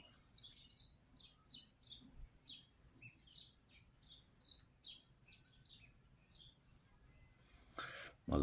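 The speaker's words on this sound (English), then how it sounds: "My little friends, the birds, they always come when I do videos in this room" Small birds chirp indoors in a room, a quick run of short, bright tweets repeating at an even pace, fairly faint and alone, ending with a brief rustle.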